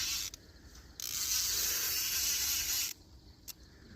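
Mosquitos swarm at a fishing spot, their high, thin buzzing swelling loud and close for about two seconds, with a few brief whines on either side.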